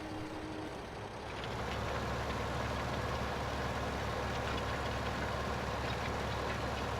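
Tractor engine idling in Farming Simulator 15: a steady, low mechanical drone with a constant hum that rises slightly in level after the first second, then holds evenly with no talk.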